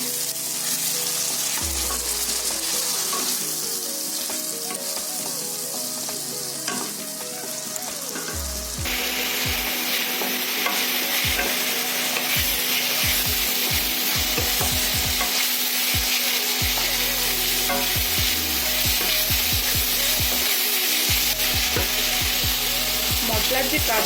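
Garlic, ginger, cumin and onion spice paste frying with melted tomatoes for a Bengali egg curry, a steady close sizzle with repeated stirring scrapes and clicks of a spoon in the pan throughout.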